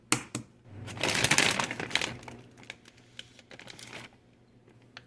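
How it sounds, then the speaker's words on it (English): Boiled eggs being cracked and peeled by hand, a dense burst of crackling shell around the first two seconds, then scattered small clicks and crinkles, close and fairly quiet with no talking. "So now I'm going to crack the eggs,"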